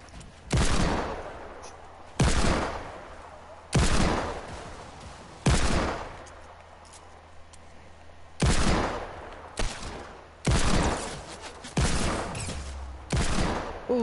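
Gunfire in a video game shooter: about nine loud, close bursts of rapid shots, each a sharp blast trailing off into a ringing tail, spaced a second or two apart with no talking.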